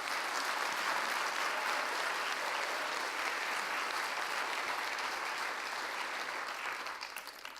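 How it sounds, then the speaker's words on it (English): Sustained applause from a conference audience, dense steady clapping that holds loud and even throughout before tapering slightly at the very end. "Big applause for everyone."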